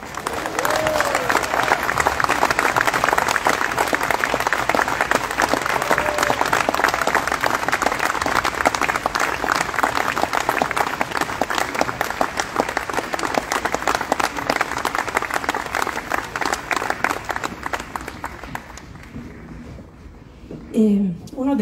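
Sustained applause from a jazz concert audience at Casa del Jazz for the singer, a thick, even roar of clapping that holds for about twenty seconds before fading out near the end.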